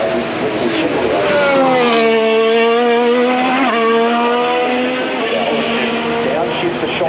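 Formula 1 car at Turn 1 of the Australian Grand Prix during practice, engine note sweeping down through a rapid series of downshifts with crackling pops, loud and close, from a spectator's position.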